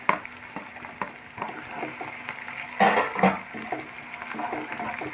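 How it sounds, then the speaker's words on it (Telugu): Sliced onion frying in oil after garlic for a potato and okra curry: a steady close sizzle with stirring scrapes, swelling briefly as the pieces are tossed. "ఒక పెద్ద ఉల్లిపాయని కట్ చేసి వేసుకున్నానండి"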